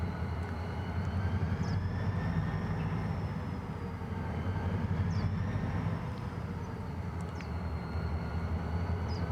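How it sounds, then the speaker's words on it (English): Lead diesel locomotive of a train passing southbound, a steady broad rumble with engine drone and faint high whistling tones, constant and fairly distant throughout. "That was the lead locomotive coming south."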